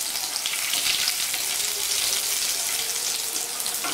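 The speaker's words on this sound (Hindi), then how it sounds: "राई हमारी तड़कने लगी है, अब हम इसमें 1 कटी हुई हरी मिर्ची डाल रहे हैं।" Mustard seeds, chopped green chili and coarsely cut garlic sizzle steadily in hot oil for a spicy millet khichda, a loud, close, continuous crackling fry with no speech over it.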